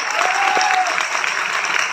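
An audience in Dhanbad's New Town Hall claps loudly and steadily for about two seconds, a dense, even wash of applause close to the microphone.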